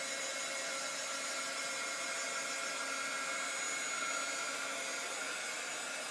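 A hair dryer blows steadily on chalk paste over a stencilled flower design on a craft project, a constant, fairly quiet whooshing hum that runs unbroken from start to finish with no voices.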